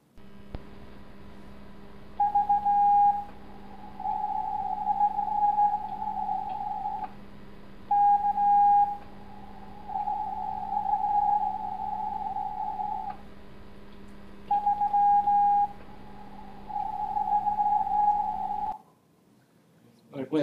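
Morse code tone signal reflected off the moon in a moon bounce contact, heard as steady beeping dots and dashes in repeated groups over a constant hum, each burst trailed by a faint delayed echo.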